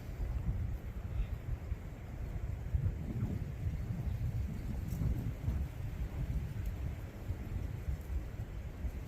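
Wind buffets a microphone outdoors beside a Starlink satellite dish setup, a steady loud low rumble of gusting noise that lasts throughout with no speech.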